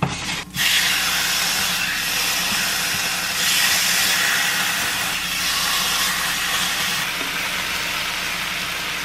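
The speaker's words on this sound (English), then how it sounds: "I'm gonna take my meat and I'm gonna add it to the pan." Meat sizzles loudly in a hot pan in a home kitchen, opening with a sharp hiss as it hits the surface and then settling into a steady, close frying crackle with no talk.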